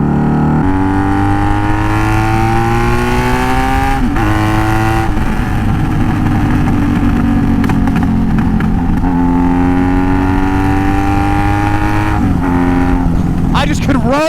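Motorcycle ridden along a dark road, its engine droning steadily with pitch rising and falling through gear changes and throttle shifts, loud and close throughout.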